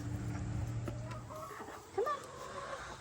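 Chickens clucking and calling near a feeder on a farm, short scattered calls over a steady low hum, with one louder squawk near the end.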